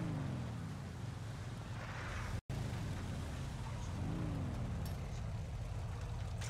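Motorbike engine running during a ride, a constant low droning hum with wind noise throughout and a brief dropout partway, with a slight rise in pitch near the end.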